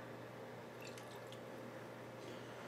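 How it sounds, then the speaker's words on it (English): Apple cider vinegar pours into homemade Jack Daniels honey BBQ sauce, a faint, close trickle and dripping of liquid over quiet background hum. "we're going to add a 1/4 cup of apple cider vinegar"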